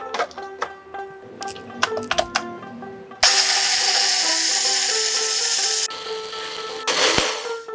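An electric grinder whirs steadily as it blends mustard seeds, green chilli, salt, turmeric and a little water into a fine paste for shorshe ilish, preceded by clinks and taps as the jar is readied.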